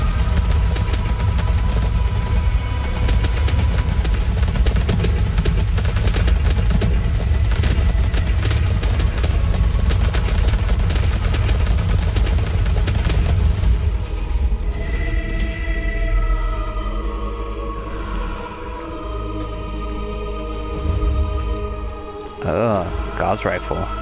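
Gauss rifle fire from DOOM Snapmap, a dense, loud run of booming energy-weapon blasts and explosions in a continuous firefight, easing off partway through, with game music running throughout.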